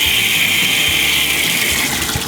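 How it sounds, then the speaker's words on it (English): Tap water rushes steadily from a faucet into an aquarium siphon vacuum, a loud, continuous hiss and splash with no break and no voices. "when the water from the faucet is turned on, it's gonna create a vacuum in here"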